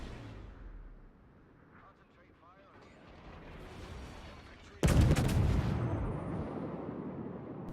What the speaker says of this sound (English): So here we go, and I'm just firing him.